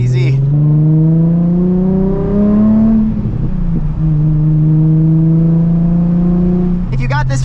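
A 2007 Nissan 350Z HR with a full exhaust kit revs loudly and close, its engine note climbing in two long sustained pulls with a brief drop between them.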